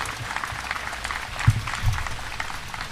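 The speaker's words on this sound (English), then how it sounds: "So how about a round of applause" An audience claps steadily at a school's senior graduation ceremony, with moderate applause from a seated crowd heard at some distance and a soft background wash.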